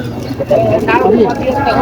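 A Sirazi pigeon coos in low, throaty bursts at close range, with people talking over it.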